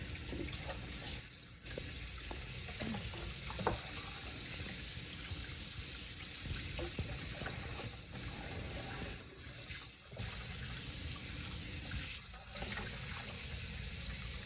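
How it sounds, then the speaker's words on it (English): Food being washed under running water in a kitchen sink by a blind amputee cook, a steady moderate stream with faint splashes and occasional clunks, continuous throughout. "So I'm just gonna wash this a couple of times."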